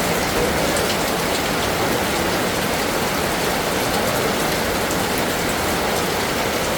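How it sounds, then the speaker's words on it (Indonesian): Steady rain falls and splashes on surfaces around a house, a dense, even hiss that stays constant throughout with no voices. "Itu kena cipratan air hujan."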